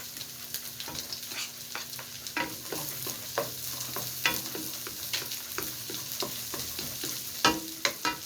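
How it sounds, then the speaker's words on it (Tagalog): Garlic sautés in its own rendered fat in a pan for spaghetti, giving a steady sizzle punctuated by frequent clicks and scrapes of a utensil stirring against the pan, fairly close and with no voices. "Kaya igisa natin ang bawang."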